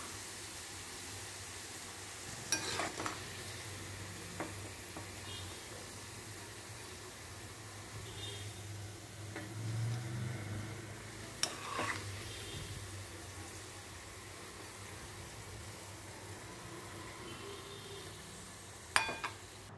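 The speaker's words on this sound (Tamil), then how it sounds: "நம்ம பக்கோடா ரெடி ஆகிட்டுருக்கு. கொஞ்சம் நல்லா அந்த ஓசையெல்லாம் அடங்கின பிறகு அதை நம்ம எடுத்துடலாம்." Onion pakoda deep-frying in hot oil gives a soft, steady sizzle throughout, fairly faint and close, with a few small clinks and stirring knocks along the way.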